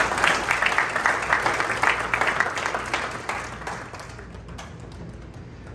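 An audience applauds a speaker being welcomed to the stage at the 2022 event, with dense clapping that stays steady and then thins toward the end.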